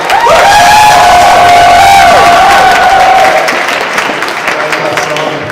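A large crowd at the Made In Asia (M.I.A.) show applauds and cheers loudly for a performer, with whoops and shouting voices over dense clapping that fades slightly toward the end.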